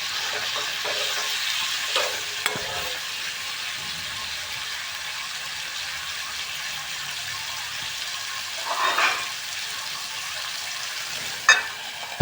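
Chicken gizzard curry cooking with plenty of spices and chili in a pan, giving a steady close sizzle with a few scrape and stir clatters and no talk.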